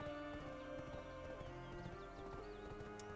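Horse hooves galloping in the video game Black Desert, a quick steady clip-clop rhythm running throughout over a constant game backdrop, fairly close and even in level.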